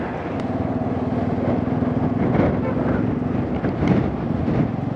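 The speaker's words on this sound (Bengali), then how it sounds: "ম্যাক্সিমাম হাওয়া, বাইক ঠেলে দিচ্ছে বাদিকে" Strong wind sweeps a hilltop beside a motorbike, roaring as a constant low buffeting rumble across the microphone with small gusty swells.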